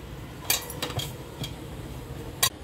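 Thalipith ingredients being mixed in a bowl, with a few scattered clinks and light knocks of a utensil against the dish over a quiet background.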